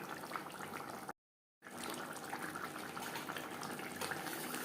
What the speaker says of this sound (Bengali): 3-4 মিনিট গ্রেভি বেশ ভালো করে ফুটিয়ে নেব।